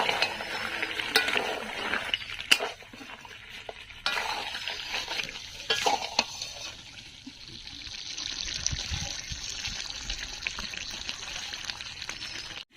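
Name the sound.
chicken curry cooking on low flame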